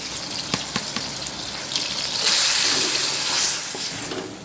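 Onions drop into a tomato-chili paste frying in ghee in a karahi, a soft crackle swelling into a louder, hissing sizzle that surges and settles, with a few light taps at the start.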